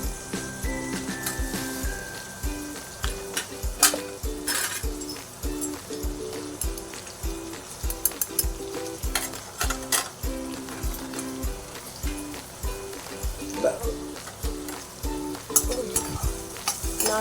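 Onions fry in a pan toward light brown for an ivy gourd and egg curry, with a steady close sizzle under rhythmic scraping and stirring strokes throughout; no talking.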